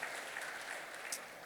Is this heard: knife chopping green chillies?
no